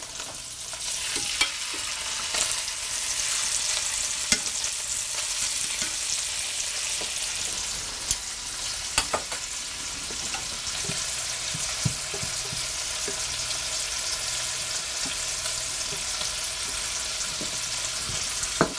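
Pork tenderloins frying in a pan, a loud, continuous hiss and sizzle with scattered sharp crackles and spits throughout, no voices.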